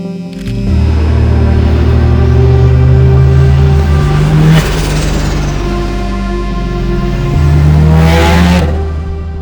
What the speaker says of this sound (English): I'm driving my 1993 Mazda RX7